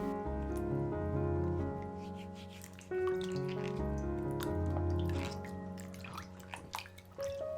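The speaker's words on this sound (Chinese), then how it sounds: "秋葵装入盆中，加盐，加水，一个一个搓洗干净。" Okra being rubbed by hand and washed in a bowl of salted water, with soft sloshing and splashing behind a steady tonal hum.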